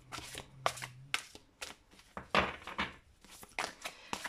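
Tarot cards are shuffled by hand, a series of quick riffles and soft flicking bursts in an uneven rhythm, close and fairly quiet.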